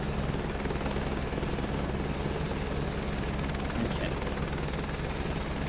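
A helicopter rotor and engine in Microsoft Flight Simulator 2024 make a loud, steady, continuous drone that stays constant throughout, with someone briefly speaking over it.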